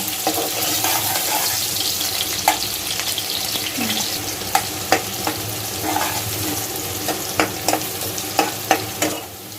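Onions fry with bay leaves, cinnamon and peppercorns in a pot, a strong continuous sizzle punctuated by repeated clinking scrapes of a spoon stirring, close up with no talking.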